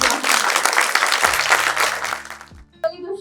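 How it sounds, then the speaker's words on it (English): An audience applauds at the Pink Legal website launch event, a dense wash of clapping from a roomful of people for nearly three seconds, then fading out as a voice begins to speak. "Can I have a round of applause?"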